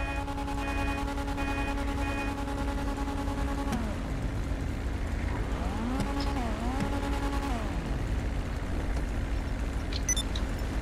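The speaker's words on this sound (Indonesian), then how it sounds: "Itu ada naik F1, Cok." A Formula 1 car in GTA Online drones at a steady high pitch, then swoops up and down as it revs and roars past, loud and close.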